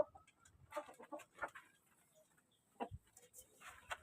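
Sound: chicken clucking

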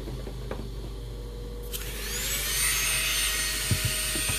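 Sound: dental handpiece grinding an immediate denture

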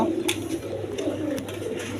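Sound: Maltese pigeons cooing

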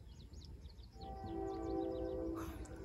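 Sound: train

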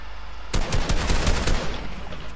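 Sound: SMG gunfire spraying in a video game

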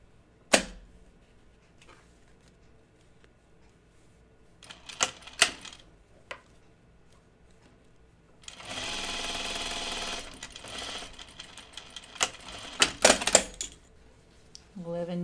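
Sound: sewing machine back stitching fabric

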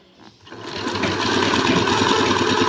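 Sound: sewing machine stitching piping onto fabric

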